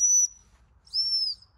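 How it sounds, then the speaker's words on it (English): A gundog stop whistle used in training a working Labrador, Cocker or Springer spaniel: two sharp, high-pitched blasts, a short one then a slightly longer one, loud and clear with no talk. "that's my stop whistle"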